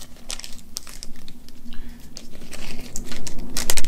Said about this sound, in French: Le plus dur c'est d'ouvrir le plastique.